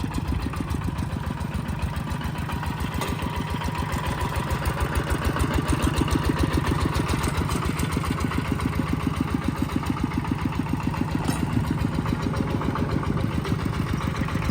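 A used Kubota ET110 engine runs on a test stand, its steady, even thumping idle going on throughout at close range, with no talk.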